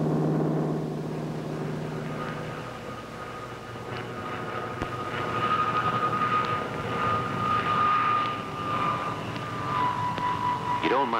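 Grumman Hellcat fighter plane in flight, a steady droning piston-engine roar with a whining tone that swells and fades slightly, heard under narration.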